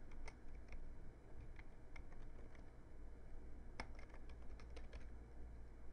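Login ID typed on a computer keyboard, a string of light, close key taps in an uneven rhythm, with scattered clicks and a quicker cluster near the end, over a quiet room hum.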